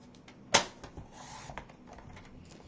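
One sharp, close swipe of a paper trimmer slices through a strip of cardstock for stamping, followed by soft rustling and handling of the paper.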